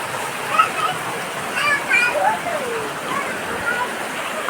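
Water runs and drips steadily into a bucket on a veranda, a continuous splashing patter close by with no talk over it.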